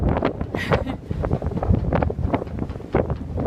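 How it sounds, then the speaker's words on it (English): Gusty wind from an approaching hurricane rushes and buffets the microphone in a marina in uneven bursts, loud and close, with rustling in between. "So it's starting to get windier."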